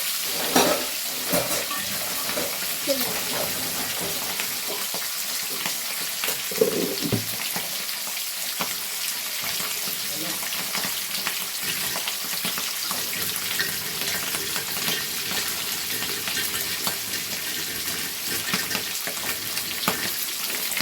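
Fesha fish frying lightly in oil in a pan, a steady close sizzle throughout with occasional stirring scrapes and a brief splash of tap water; no voices.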